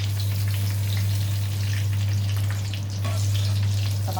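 Cut potatoes sizzling steadily in hot oil, a dense continuous crackle of frying with a low constant hum underneath and no talking.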